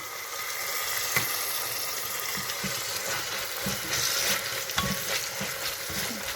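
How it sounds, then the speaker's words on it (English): Tomato frying in a pan for vegetable biryani gives a steady, close sizzle throughout, with occasional spoon scrapes and knocks from stirring. "now I'm going to add one tomato."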